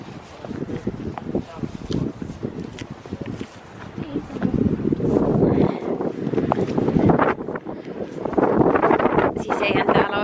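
Gusty wind on a rocky hilltop buffets the microphone in loud, uneven rumbles that swell and ease, while people talk over it throughout.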